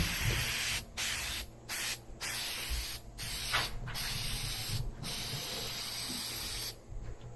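Spray paint hisses from an aerosol can onto a Plexiglas sheet in several bursts of steady, close, fairly loud spraying separated by short pauses, with no talking.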